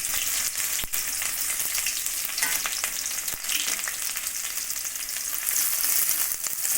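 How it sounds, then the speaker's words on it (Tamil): Onions fry in hot oil with spluttering mustard seeds for a potato poriyal, giving a steady, moderately quiet sizzle broken by a few sharp pops and crackles. "இப்போ கடுகு உடைஞ்சதும் வெங்காயத்தை அதோட சேர்த்துக்கலாம்."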